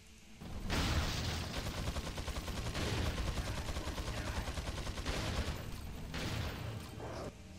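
Sustained bursts of automatic gunfire from the video game Resident Evil 4, loud and close, firing almost continuously for several seconds with brief pauses between volleys.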